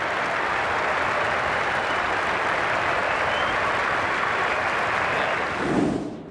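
A test-match cricket crowd at Adelaide Oval applauds a departing batsman, Steve Waugh, with a broad, even wash of clapping that holds steady and distant-sounding before fading at the end.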